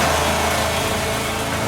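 A car engine runs steadily at a moderate, even pitch with a penny lodged in its carburetor; the sound is loud, continuous and close, with no voices over it.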